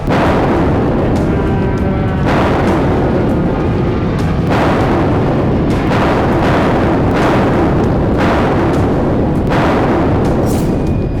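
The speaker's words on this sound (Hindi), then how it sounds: "एक ही मिनट के भीतर 10 से ज्यादा धमाके हो रहे थे।" Heavy blasts from aerial bombardment and artillery strikes on a city area in Gaza boom one after another, loud and dense, roughly every second or two over a continuous rumbling roar.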